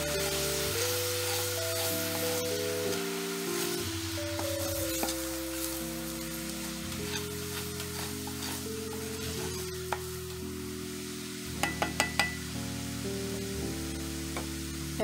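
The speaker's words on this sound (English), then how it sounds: "next we're going to add our 1/2 cup of white wine. And all you want to do is mix that real quick." White wine poured into a hot pan for a shrimp fettuccine Alfredo sauce, giving a steady sizzle with a few light clinks of stirring, partly covered by a sustained background tone.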